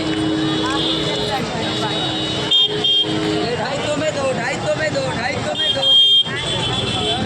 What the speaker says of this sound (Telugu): మార్కెట్లోని వెహికల్స్ కార్లు